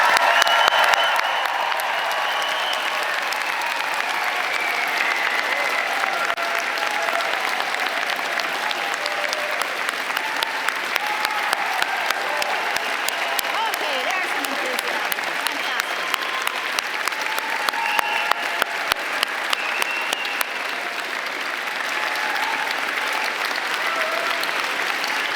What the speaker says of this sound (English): please join me in applauding the October